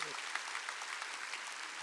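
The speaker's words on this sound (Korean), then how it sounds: "박수." Congregation clapping together during a church service, a brief burst of dense, even applause filling the room.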